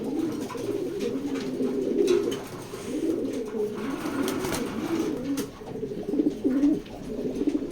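Racing pigeons cooing in a loft, repeated soft throaty coos overlapping close by in a steady rhythm with faint background noise.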